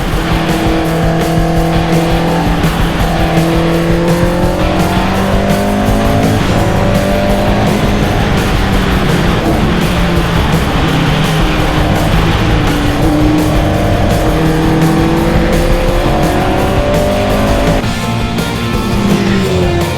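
Race car engine howls continuously on a track, with rising and falling engine pitch and tyre noise, loud and close throughout with no talking.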